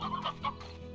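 Chickens cluck in the Slime Rancher video game, a few quick soft clucks layered over the game's background music.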